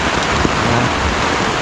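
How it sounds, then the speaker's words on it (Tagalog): Heavy rain pours down steadily in Claveria, Misamis Oriental, during a town fiesta, a loud, dense, unbroken hiss of drops on surfaces with a faint low rumble beneath. "Ulan na sad."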